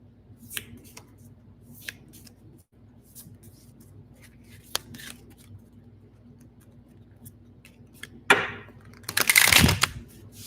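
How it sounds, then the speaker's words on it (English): Tarot cards being handled, with scattered soft clicks and taps spread through a quiet room, then a loud riffling shuffle burst near the end. "And now I'm going to shuffle these cards"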